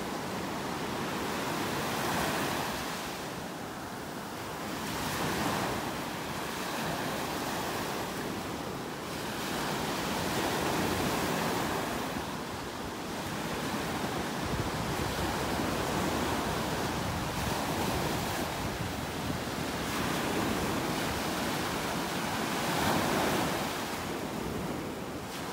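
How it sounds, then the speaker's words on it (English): Small waves break steadily on a Gulf of Mexico beach in North Naples, Florida, a continuous loud surf wash swelling and easing in soft rhythmic surges, with some wind noise and no talking. "Some pretty nice little waves here for the Gulf."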